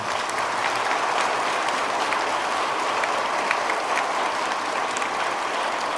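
Sustained applause from an audience at a church solemnity celebration, a steady dense patter of many hands clapping at close range.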